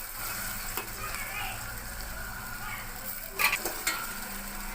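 Soaked chana dal fries with softened tomatoes in a pan, a close, even sizzle with a couple of brief stirring scrapes near the end.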